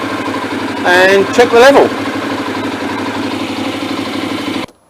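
A Honda NC700X motorcycle engine idles steadily and close by after a fresh oil and filter change, a constant low hum running throughout while someone speaks briefly over it.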